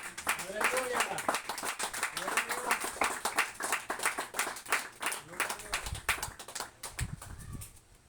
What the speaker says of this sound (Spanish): darle un aplauso a Cristo fuerte, fuerte como para el Señor